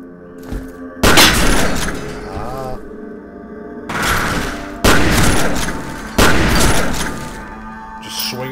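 Loud gunfire bursts from the shooter game F.E.A.R., with several heavy, booming volleys separated by short pauses and a sustained roaring blast in the middle, plus faint voice sounds in places.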